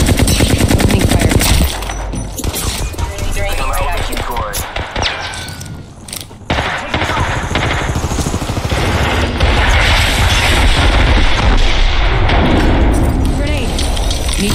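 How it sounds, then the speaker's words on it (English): Sustained automatic weapon fire and explosions in the battle royale video game Apex Legends, loud and dense, with a brief lull around the middle before the firing resumes heavily. "Opening fire."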